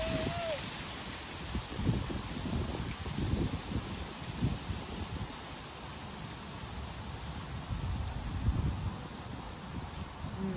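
Strong wind buffets the microphone outdoors at a dairy farm, giving a constant low roar with gusty swells throughout.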